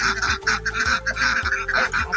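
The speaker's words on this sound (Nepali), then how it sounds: "यहाँ हाँसको बच्चाहरू चलिरहेको ठाउँमा पनि" Ducklings or other fowl call in a steady run of loud, close honking quacks, repeating rapidly and almost without break along a village path in Nepal.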